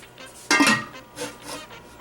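A lid goes onto a pot of simmering beef curry spiced with cumin and coriander: one sharp metal clank, followed by a couple of softer clinks in a quiet kitchen.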